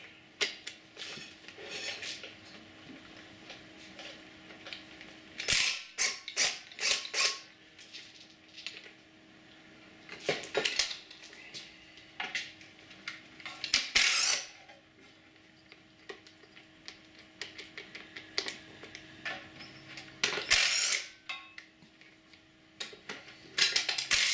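Metal wrench clicks and ratchets while removing the gas tank bolts on a Proto-Power PP15 generator, coming as irregular bursts of tapping and clinking with quiet pauses between.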